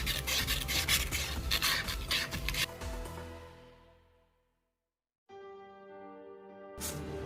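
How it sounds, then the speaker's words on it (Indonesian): Rotating 800-grit sandpaper rasps against a workpiece in quick scratchy strokes for a few seconds, then fades out; a quiet hum follows before another brief scrape at the end. "sekarang saya ganti amplas ke 800. Amplasnya sekarang kita putar."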